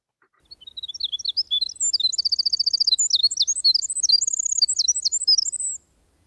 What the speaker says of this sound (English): This is a little winter wren. And I'm going to play its song and I'm going to play its call